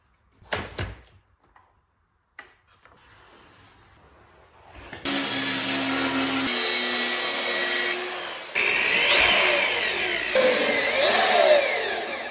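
A power saw cuts a piece from a sheet of 1/4 inch Meranti hardwood plywood, starting after a few knocks and handling noises, then a loud steady whine that deepens and shifts as the blade bites through the wood.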